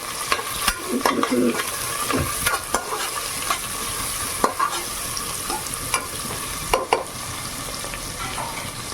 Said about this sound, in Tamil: இப்போ இந்த வெங்காயம் நல்லா வதங்கி வர வரைக்கும் வதக்கிக்கலாம்.